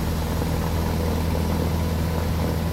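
Propeller airplane engine in a video game drones in a steady, loud, continuous hum during takeoff, with no voices.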